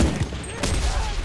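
A rapid burst of video game gunfire, dense and continuous for about a second, with a sharp crack near the middle.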